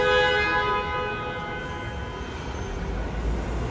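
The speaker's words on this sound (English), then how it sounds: "This tram's preparing to depart." A Disneyland tram pulls away with a steady whining motor hum and a low rolling rumble that fades slightly as it departs.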